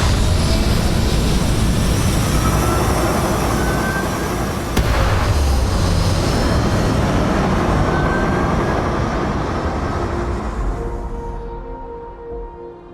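In the Starfield video game, a spaceship lifts off with a loud, sustained engine roar and deep rumble that holds steady, then gradually fades away toward the end.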